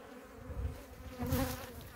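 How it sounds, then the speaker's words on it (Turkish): Honey bees sun themselves at a hive in Ardahan in October, a faint buzzing that swells and fades as individual bees pass close, with no talk. "çok güzel güneşleniyor arı"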